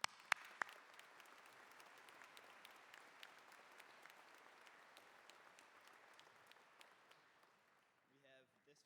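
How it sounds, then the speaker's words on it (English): Applause at a Poland Seminary High School class of 2025 graduation ceremony, a sharp few claps and then sustained crowd clapping that gradually fades before a voice speaks briefly at the end. "how about one more round of applause?"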